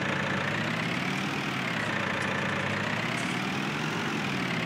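A tractor engine idles in a farming video game, a constant, close, low mechanical drone that stays even throughout with no talking.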